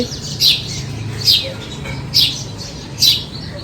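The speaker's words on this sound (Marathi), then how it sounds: "नुसती चिवचिव करते" A sparrow chirps four times in short, bright, evenly spaced bursts over a low, steady background hum.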